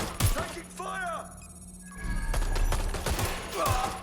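Gunfire in a surveilled London street scene, sharp shots breaking out amid shouting voices and a ringing electronic tone, loud and close with bursts at the start and end.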